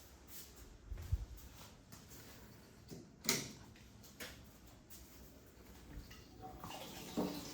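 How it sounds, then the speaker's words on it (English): A Pro Chiller running on a cold plunge, fed through a 40 mesh filter, as water flows into the tub. The flow is a faint, even wash, broken by a few soft knocks and one sharper thud. "you should immediately hear water flow into your cold plunge"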